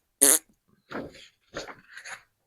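Several fart sound effects in a row: one loud, sharp burst followed by three shorter, rougher blasts, close and clear with no talking.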